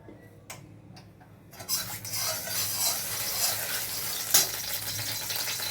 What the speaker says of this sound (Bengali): সব মশলাগুলো ভেজে নেব।